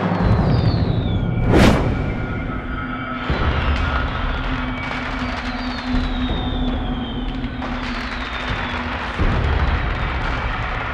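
Diwali firecrackers burst in several sharp, loud cracks and booms, one big bang early on, with a whistling shot and a steady crackling hiss of fireworks between them.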